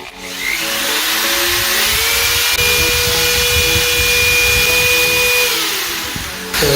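An electric drill powered by a portable power station whines steadily at high speed for several seconds, loud and close, with the motor spinning up at the start and winding down at the end.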